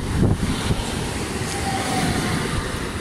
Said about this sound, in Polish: Wjeżdża pociąg Regio relacji Szczecin Główny, Piła Główna.